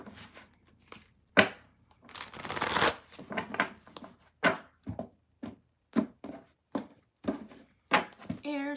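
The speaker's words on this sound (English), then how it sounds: "Shuffling for the air signs." Tarot cards are shuffled repeatedly in quick riffling bursts, with short pauses between shuffles, close and fairly quiet.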